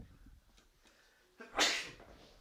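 One sharp, close sneeze bursts out after a stretch of quiet room noise.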